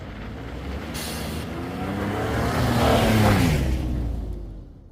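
A Ford Bronco accelerates on icy slush with a close, loud engine roar that rises in pitch and volume, peaks, and then fades, with no talking.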